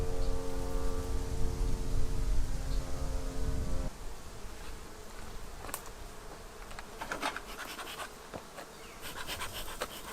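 Honey bees buzzing at an open hive, a steady close drone at first, then a looser, fainter hum mixed with scattered clicks and handling noises from the frames.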